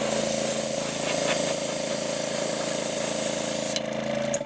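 Continuous airbrush or spray-gun hiss laying a white base coat over a deep-diver fishing lure, a steady broadband spray with a faint compressor hum underneath, cutting off sharply near the end.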